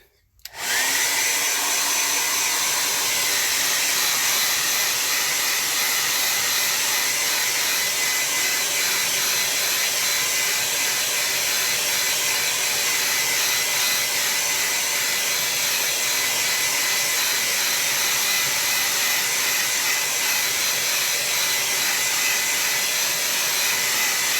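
A hair dryer switches on abruptly and blows a steady, loud whooshing roar over a watercolor painting, holding an even level for over twenty seconds, close by and with no talking.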